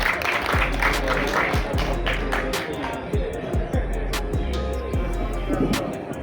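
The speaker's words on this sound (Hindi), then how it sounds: "तालियों में गड़गड़ाहट कम हो गई है." Clapping from an audience at a farewell ceremony with marksheet presentations: a steady mass of claps with some sharper individual claps standing out, and a voice faintly mixed in.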